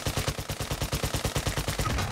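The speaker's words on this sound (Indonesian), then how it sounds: "Ada orang tembak aku" Rapid automatic gunfire in a shooter video game, a fast steady stream of close, loud shots repeating evenly without pause.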